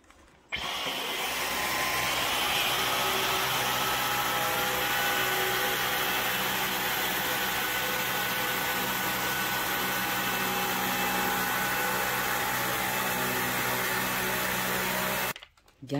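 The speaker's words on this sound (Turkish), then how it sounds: "Dyson'ımızı çalıştıralım." Dyson V15 cordless vacuum cleaner switched on and running, a loud steady whirring roar close by that holds constant for about fifteen seconds before cutting off abruptly.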